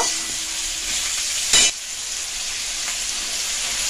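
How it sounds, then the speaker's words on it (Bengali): Onion frying in hot oil and ghee in a pan, a continuous close sizzle with one short loud scrape of the stirring spoon. "এবার পেঁয়াজটা দিয়ে দেব। পেঁয়াজটা ভালোভাবে লাল লাল করে ভেজে নেব।"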